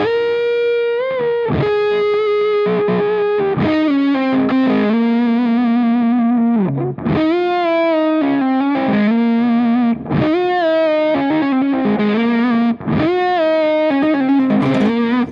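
Electric guitar driven through a Catalinbread Dirty Little Secret Deluxe distortion pedal on its super lead setting, playing loud saturated rock lead lines with sustained bent notes and quick phrases, continuous and upfront with no talking.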